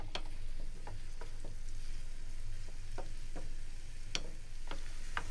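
Onion sautéing in a pan for chicken stroganoff, a continuous close sizzle with a low hum underneath and scattered light ticks and scrapes of a utensil, no voices.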